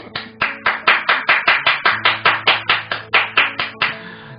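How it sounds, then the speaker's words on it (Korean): Audience after an economics lecture claps in steady unison, about sixteen evenly spaced, loud and close beats in a row. "여러분 모두 박수 한번 주세요."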